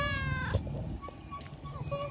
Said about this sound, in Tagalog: meron pang isang pusa dito